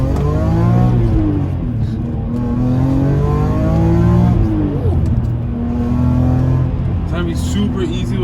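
A BMW E46 M3 drives a mountain road at night, its engine droning and revving loudly and steadily through gear changes, with rising and falling pitch close to the cabin and a voice speaking over it.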